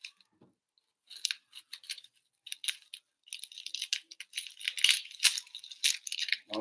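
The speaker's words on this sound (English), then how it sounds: "You cut the onion in half." Knife slicing through an onion on a board, a run of crisp, close crunches and snaps in uneven bursts with short pauses, no talking.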